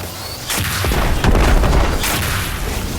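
Explosions in the video game Destiny 2: a sudden loud boom at about half a second, followed by further heavy blasts and crashing bursts that continue to the end.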